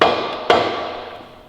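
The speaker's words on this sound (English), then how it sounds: "The hammer." A hammer strikes metal twice while working on a wrecked Audi RS3's gearbox area, two sharp ringing clanks about half a second apart, each decaying slowly, close and loud with no talk.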